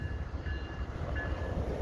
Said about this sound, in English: I get this westbound train.